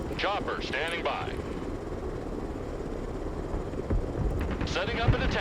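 Helicopter idling on standby in the war video game Broken Arrow, a steady rotor and engine drone running throughout with wind-like rush, while radio voices and game chatter speak over it.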